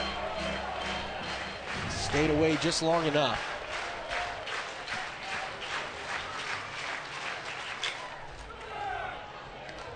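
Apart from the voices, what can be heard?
baseball crowd reacting to the pitcher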